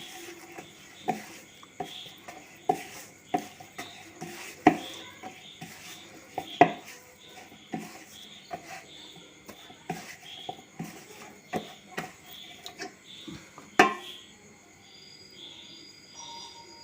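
Maida flour being worked into pumpkin bun dough by hand, a soft irregular run of knocks and scrapes against a bowl, close and fairly quiet, with no talking.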